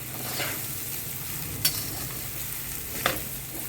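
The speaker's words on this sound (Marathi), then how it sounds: "साबुदाणे पहिला साबुदाणे टाकून घ्यायचे साबुदाणे परतून घ्यायचे" Sago pearls are sautéed in oil for fasting khichdi, producing a soft, steady sizzle under two sharp scraping stirs of the pan, close and fairly quiet.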